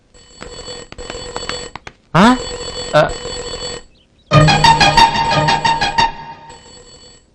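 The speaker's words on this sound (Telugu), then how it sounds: "రేయ్, ఫోన్ మోగుతుంది" An old-style telephone bell rings in two loud, rapid trilling bursts separated by a quieter stretch, with other clatter and noise in between.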